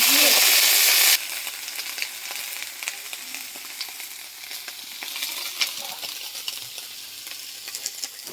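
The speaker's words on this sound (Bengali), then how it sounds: "নিয়ে এবার কপি ভাজবো, কপি দেওয়া হবে, কপিটা ভেজে দেবো।" Cauliflower pieces frying in a pan, opening with a burst of loud hissing sizzle that drops to a quieter steady crackle with scattered clicks and stirring scrapes.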